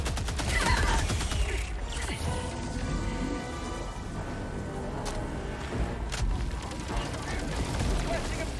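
Gunfire crackles in Helldivers 2, with bursts of automatic shots and scattered booms layered over constant battle noise and game effects, fairly loud and dense across the whole stretch.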